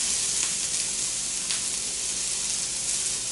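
Vegetables charring in a hot skillet give off a steady, bright sizzle and hiss that runs unbroken throughout, close up and moderately loud, with faint pops rising here and there.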